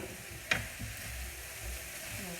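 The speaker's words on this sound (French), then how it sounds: "je remue la viande hachée avec les carottes" Minced meat and carrots stirred in a sizzling pan for a hachis parmentier, a steady close frying hiss with a sharp scrape of the utensil near the start and no talk.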